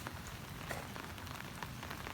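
Rain falls on a planted garden plot as a faint, steady patter with scattered small drop ticks throughout and no talking.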